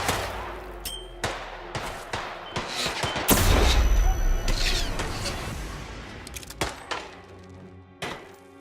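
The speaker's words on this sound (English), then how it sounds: "I think someone is firing a gun." Gunfire in the video game Hitman 2 crackles in sharp shots and a sustained volley, with booming impacts in the middle and scattered single shots later, under a busy game soundscape.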